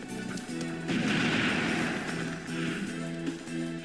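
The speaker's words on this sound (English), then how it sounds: "Because now they got cannons everywhere." Cannons fire in the PS2 game Castlevania: Curse of Darkness, booming blasts and crashing bursts layered over a steady tonal game soundtrack.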